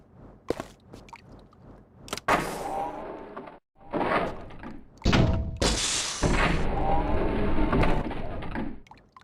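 A door opens in the video game Tomb Raider: The Angel of Darkness, giving a few heavy thunks and sliding clanks over a busy game soundscape with loud bursts of noise, no voices.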